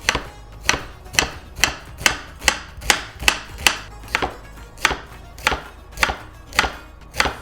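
Knife chopping through halved fennel bulbs on a cutting board, a steady series of about fifteen crisp, close thuds at an even rhythm, loud and clear with no talking.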